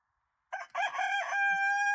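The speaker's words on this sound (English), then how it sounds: "So, yes, Coco, you have a lovely rooster crow." A single rooster crows once, close and clear, its call rising and holding on a bright, sustained note.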